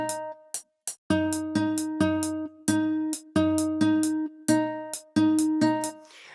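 A guitar melody with a syncopated rhythm, plucked notes landing on the off beats, giving a bouncy, choppy pulse, played alone with no talk.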